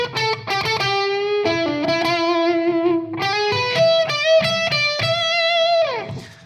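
A mildly overdriven electric guitar plays a slow blues lick in E in 4/4 over a 12-bar form, with sustained, bent and gliding single notes, loud and close, alone.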